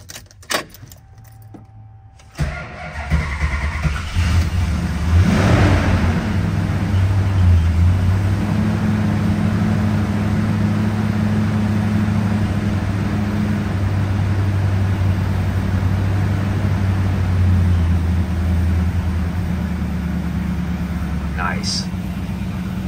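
Keys jangle, then a 1974 Plymouth Road Runner GTX's 440 V8 with electronic fuel injection cranks and fires, settling into a loud, steady, deep idle that runs for many seconds close by.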